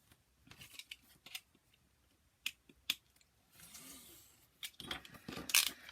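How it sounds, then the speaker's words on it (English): Scissors snip through paper or card while a journal cover is trimmed, a handful of sharp, close cuts scattered irregularly, with a longer rustling pass near the end and no talking. "so I just need to cut this one off"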